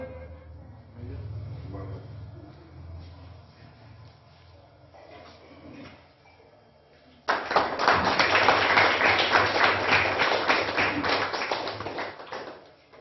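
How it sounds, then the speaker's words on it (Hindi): Audience applause for a mayoral candidate being honoured at a local event: muffled voices and low murmur at first, then a sudden burst of loud, rapid, sustained clapping that holds for several seconds before fading at the end. "जोरदार ताली एक बार"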